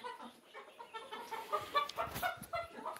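A chicken gives soft, repeated clucks and murmurs at close range, fairly quiet, in an irregular stream over about three seconds with no talk.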